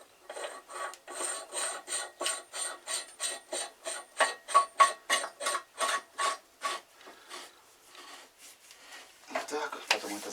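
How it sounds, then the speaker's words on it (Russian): Nut being tightened by hand on a homemade lathe tailstock built from a jack, a steady series of about twenty short rasping scrapes in a regular rhythm, close and fairly quiet. "Теперь эту закручиваем гайку."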